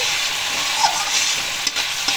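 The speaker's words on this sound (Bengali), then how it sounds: "মশলাটা আমার ভাজা হয়ে গেছে" Mustard spice paste for a bhola fish curry sizzles and hisses in a hot pan, with occasional scraping stirs and soft clinks, steady and close.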